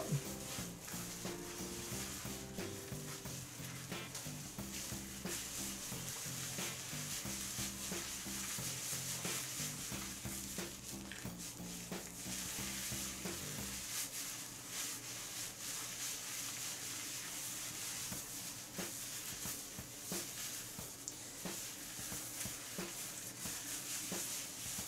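Shampoo is worked into a lather while the scalp is massaged, giving a steady close wet rubbing and squishing that runs throughout, with a faint musical backing in the first half.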